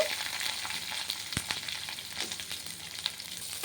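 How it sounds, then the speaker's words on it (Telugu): Fenugreek seeds, mustard seeds and curry leaves sizzling in hot oil in a pan, a steady close fry with sharp pops and crackles, one louder snap partway through. "బాండలు పెట్టి మెంతులు 2 వేసుకుందామండి, ఆవాలు 2 వేసుకుందామండి, కరివేపాకు వేసాను."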